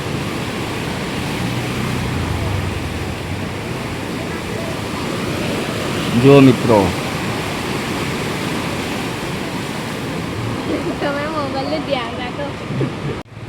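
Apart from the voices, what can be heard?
rushing flooded river water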